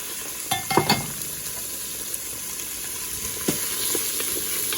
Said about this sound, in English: So we're going to put some oil, and I'm going to add to this our onions and our garlic.